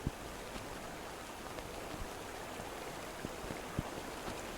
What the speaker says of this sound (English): There's a waterfall back here.